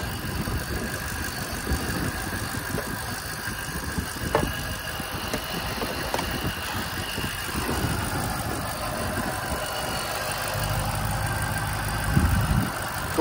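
A 2008 Ford Mustang Shelby GT500's supercharged 5.4-liter V8 idles steadily nearby with a low, even rumble and a faint mechanical hum, unchanging throughout, no talking.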